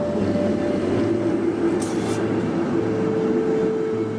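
A tram rumbles steadily past in Budapest with a low mechanical drone, a brief high squeal of wheels midway, and a faint tonal whine throughout.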